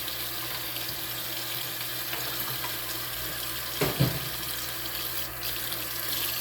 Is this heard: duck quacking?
no